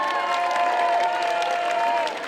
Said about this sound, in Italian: applauditevi, applauditevi.